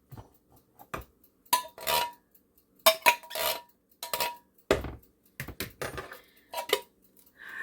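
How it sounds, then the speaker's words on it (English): A spoon scoops canned food out of an opened can into a bowl, making an irregular run of close metallic clinks, taps and short scrapes with brief pauses between them. "I'm just putting them in my bowl"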